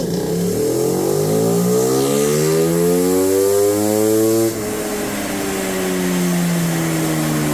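A Suzuki Raider Fi motorcycle engine on a remap test revs up steadily from around idle, its pitch climbing and then holding at a high, loud buzzing drone, close by, with no talking.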